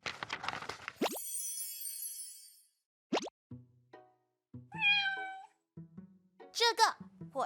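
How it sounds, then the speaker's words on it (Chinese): Cartoon cat meowing in a forest sound-guessing scene, a couple of clear meows mixed with plopping effect sounds and a voice speaking between them. "是猫咪。"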